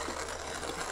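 A hand-cranked Kalita coffee grinder crushes coffee beans, giving a brief, continuous rasping, ratcheting grind at close range.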